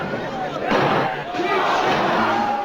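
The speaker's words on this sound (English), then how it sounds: "Pop means when that crowd pops, when they react" A wrestling arena crowd roars and cheers loudly, the noise swelling and surging in waves over a few seconds, with no single voice standing out.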